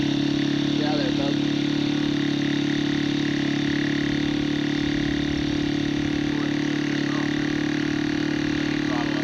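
An engine runs steadily at a constant drone after being fired up, with a continuous loud hum and a voice talking over it.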